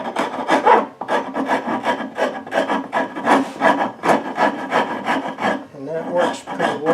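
Hand rasp or file shaping and rounding over the toe end of a wooden leg held in a vise, steady back-and-forth rasping strokes in a fast rhythm, close and loud.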